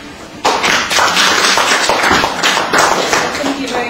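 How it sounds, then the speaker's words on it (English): A conference audience applauds as a speaker is invited up to present, with loud, close claps coming in uneven rhythmic bursts, a few hands tapping out a sharp beat that carries on for several seconds. "with a round of applause, please, let's ask Dr. Mullin to make the first presentation to you."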